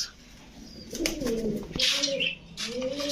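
Pigeons at a pigeon sale coo in soft, rolling calls several times, fairly close, with a few brief chirps and faint background noise.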